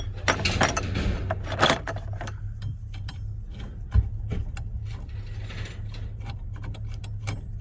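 A rented puller set clicks, ratchets and clanks metallically while a wheel is worked off an old car from an abandoned hoard, with close mechanical rattles, a sharp knock midway and a low hum beneath.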